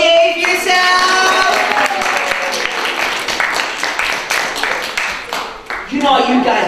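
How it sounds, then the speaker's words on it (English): Children clapping and shouting yay together at a magic show, a dense burst of claps mixed with excited young voices that stays loud and busy throughout, then thins briefly before rising again near the end. "Can you clap and go yay for yourself?"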